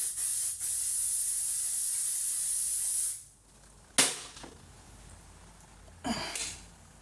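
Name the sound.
L'Oreal Infallible setting mist spray bottle spraying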